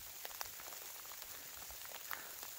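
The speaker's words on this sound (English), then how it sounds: "It's actually really pretty to walk in the tea garden in the rain." Rain falls in an outdoor tea garden, a faint, steady patter of drops hitting leaves and ground with scattered sharper ticks and no talking.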